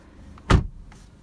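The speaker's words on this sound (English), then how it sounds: "Really solid thunk when you shut the door" A car door shutting on a 2017 Alfa Romeo Giulia gives a single solid, close thunk, standing out briefly against a quiet cabin background.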